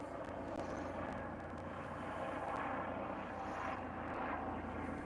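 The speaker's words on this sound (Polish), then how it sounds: "O, leci samolot, helikopter leci." A steady, distant engine drone of a helicopter overhead, constant and fairly faint, with no talking.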